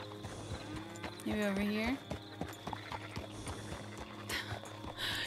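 Horse hooves clip-clop at a steady walking rhythm in the Red Dead Redemption 2 video game, joined by a short whinny, with someone talking over the game sound.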